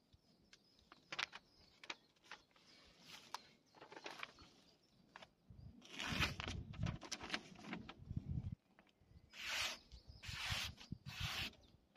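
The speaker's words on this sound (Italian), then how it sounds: "vi faccio vedere le doti di taglio dei due coltelli" Bushcraft knives, a Bark River Bravo 1 and an LB Project 1, cut and scrape wood in bursts of close rasping strokes. The strokes come in irregular runs separated by short pauses.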